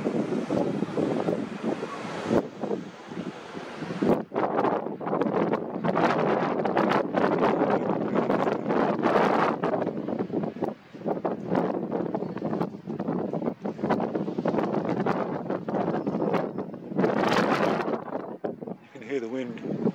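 Strong wind gusting over the sea near Gibraltar, rough blustery roar buffeting the microphone with surf and boat noise beneath, close and continuous while a person talks.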